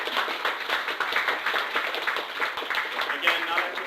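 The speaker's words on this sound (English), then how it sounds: "One more round of applause for these guys and their courage." Audience clapping after a university debate on controversial speakers, a brief, fairly even patter of many hands applauding at moderate volume.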